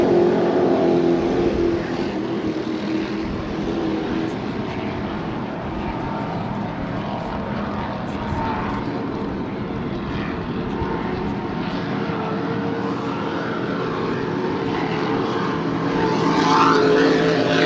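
Superboat racing powerboats roar past at the 2011 New York Grand Prix, a continuous loud, droning engine noise that holds steady throughout with a slight swell near the end.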